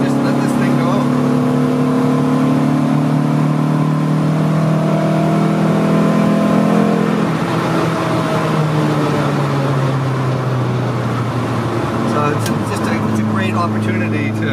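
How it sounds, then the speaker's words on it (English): 1983 VW Rabbit GTI engine held at full throttle in fourth gear on a hill climb, a loud close steady drone with RPM climbing and shifting pitch, while a voice talks over it. "I'm like full throttle, and take my foot off the brake, build some RPM"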